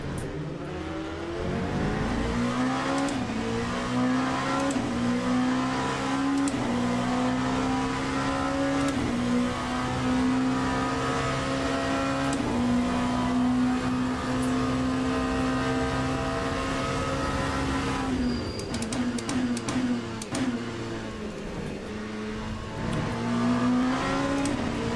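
Race car engine revving hard on a track, heard as a loud, sustained, close engine drone with rising and falling pitch through gear changes, continuous for the whole stretch.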